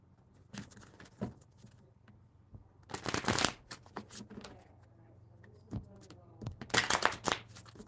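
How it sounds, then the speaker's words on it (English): Tarot cards are shuffled by hand during a live reading, heard as two short, crisp riffling bursts of card shuffling amid quieter taps and handling noises. "Let me get another shuffle in here"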